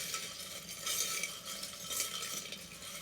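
Small charms rattle and clink steadily inside a charm bowl, with a continuous bright jangling that swells in a couple of brief surges and carries no talk.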